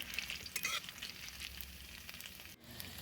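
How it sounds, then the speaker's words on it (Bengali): Grated ginger fries in a pan for a Bengali bottle gourd curry, a steady close sizzle with scraping stir strokes early on, moderate level and no speech. "আদাটা ভেজে নেব।"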